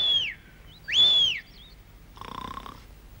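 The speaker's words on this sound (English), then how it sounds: "He's still snoring" Two cartoonish snores, each a rising whistling breath, followed by a softer fluttering exhale, close and clear with quiet gaps between.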